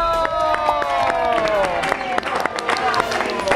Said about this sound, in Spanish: Pido un aplauso para nuestro increíble Gabito.